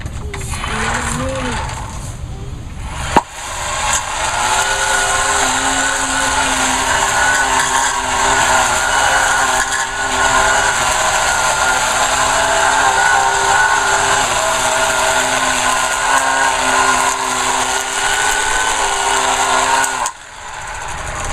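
A gas lawn edger runs steadily at full throttle while trimming a lawn edge, a loud continuous mechanical whine with harmonic engine tones, briefly dipping near the start and again near the end.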